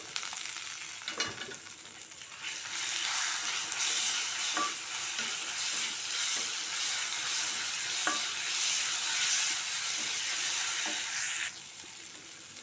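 Raw mango being stirred into rice in a hot pan: a continuous soft sizzle with repeated spoon scrapes and light knocks, fairly quiet and close, with no talking.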